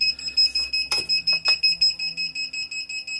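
A 1000W portable charging station's overload alarm beeps in rapid, steady high-pitched pulses for a few seconds before shutting off, close and fairly loud, with a couple of brief clunks partway through.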